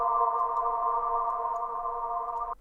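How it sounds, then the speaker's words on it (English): A resonant synthesized sine-wave drone with delay and reverb holds a steady, layered tone. It sustains evenly for a couple of seconds, then cuts off abruptly. "When you're using sine waves, it's going to be really resonant, heavy."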